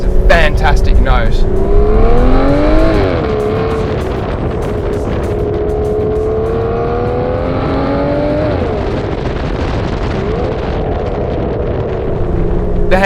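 A sports car engine roars and revs through an underpass, pitch rising and falling with gear changes, loud and echoing.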